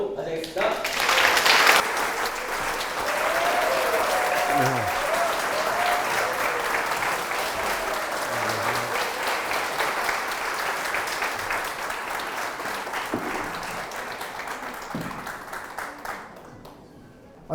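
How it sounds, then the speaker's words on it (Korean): A hall audience breaks into loud, sustained applause to welcome a lecturer at a political talk, the clapping swelling early and holding steady for many seconds before thinning out near the end. "힘찬 박수로 맞이하겠습니다."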